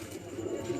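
Pigeons in three or four loft cages give a low, steady cooing that murmurs on throughout, close by and moderately loud, with no talking over it.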